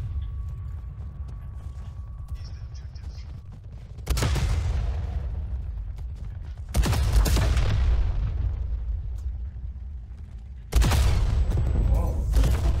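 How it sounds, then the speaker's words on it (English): A KSP 45 submachine gun in Black Ops Cold War fires in three loud, close bursts, each a dense rattle of shots with heavy rumbling game effects between them. "let's try out this new submachine gun"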